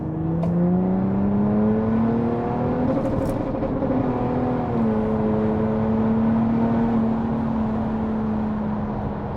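An Audi A5 3.0 TDI diesel, tuned to 395 bhp, revs up in manual mode toward its hard-cut rev limiter. A loud, steady engine drone rises in pitch and then holds, heard close and alone without talk.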